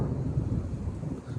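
Low rolling thunder from a Central Florida summer thunderstorm rumbles steadily throughout, a dense, fairly loud roar with faint rain hiss above it and no voices.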